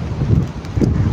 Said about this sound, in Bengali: সে বাতাসের গতিবেগ আপনাদেরকে দেখানোর চেষ্টা করছি